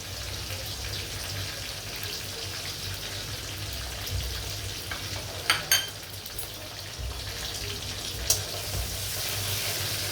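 Sliced onion frying in a pan with garam masala, a steady close sizzle with faint crackles and a few brief clinks of a utensil stirring.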